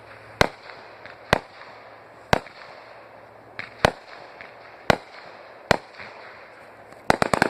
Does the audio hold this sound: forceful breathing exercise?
no